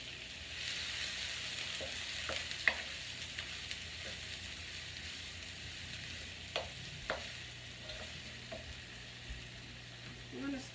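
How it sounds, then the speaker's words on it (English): Onions being stir-fried in a pan over turned-down heat, a steady soft sizzle with scattered light clicks and scrapes of a utensil against the pan. "I'm going to stir fry this until the onions become translucent."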